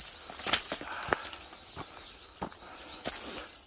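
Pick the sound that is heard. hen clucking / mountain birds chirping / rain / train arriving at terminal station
mountain birds chirping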